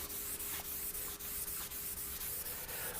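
Abrasive tissue rubs oil into the wood of a Hofner Galaxie guitar in quick, regular back-and-forth strokes, producing close, soft scratchy swishes with no voices.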